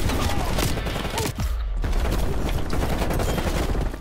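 Pistol gunfire in a first-person shooter video game, a dense close burst of rapid sharp shots with a brief pause partway, then continued firing.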